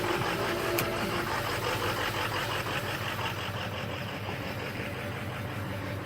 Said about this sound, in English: let the old truck warm up.